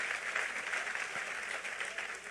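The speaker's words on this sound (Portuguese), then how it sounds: "Então aplauda ao Senhor, porque isso é lindo" A church congregation claps for the Lord during a sermon, producing a continuous, fairly soft and distant wash of applause with no voices on top.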